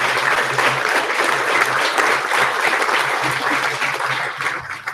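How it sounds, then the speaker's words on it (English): An audience at a school board meeting applauds steadily, a dense, loud clapping that continues evenly for several seconds and then starts to fade. "May we give them a round of applause."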